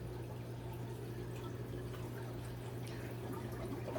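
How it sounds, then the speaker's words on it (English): Water trickles gently down through an algae turf scrubber on an aquarium, a faint continuous splashing and dripping under a low steady hum. "You just want to hear that water trickle."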